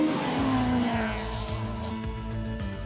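A 1600cc two-wheel-drive rally car of under 200 horsepower, a Toyota Corolla GT, roars close by at a rallysprint finish line, its engine note sliding and revving with gravelly tire noise, loud and alone without talk.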